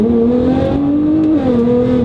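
A Nissan GT-R engine revs hard at high RPM, a loud, steady, close drone that climbs in pitch, dips briefly as if shifting, then rises again, with no talk.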